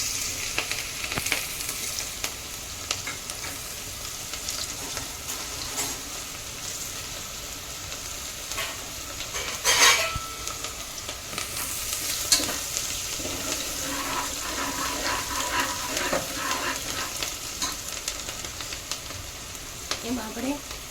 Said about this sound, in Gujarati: હવે આની અંદર આપણે ડુંગળી નાખી દઈશું।